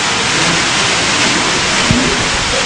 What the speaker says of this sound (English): Because of the rain.